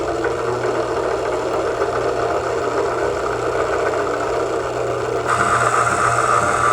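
A honey extractor spins frames wide open while one frame sits out of its slot and drags. It gives a loud, steady motor drone that holds level throughout, with a brighter tonal shift in the final second.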